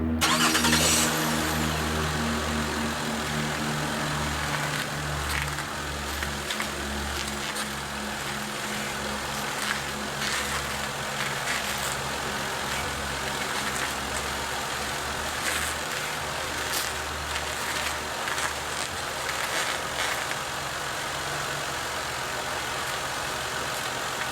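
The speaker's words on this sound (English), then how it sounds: "Now what I'll do is I'll start the car up and cycle the wheels back and forth." A 2007 Ford Fusion engine cranks and catches in the first moment, then settles into a steady, close, continuous idle hum with a low rumble throughout, no talking.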